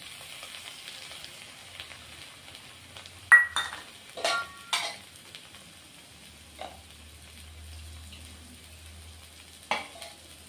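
Ground mustard paste fries in a pan for a Bengali rui fish curry with vegetables, a faint low sizzle under a handful of sharp utensil clinks and stirring scrapes, no talking.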